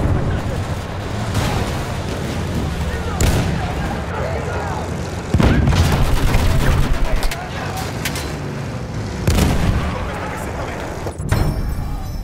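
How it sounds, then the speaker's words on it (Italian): Enemy machine gun fire in the game Battlefield 1, with heavy booming bursts and rattling shots over a loud, constant battle din, and several sharp louder blasts spaced through it. "Attenzione, mitragliatrice nemica!"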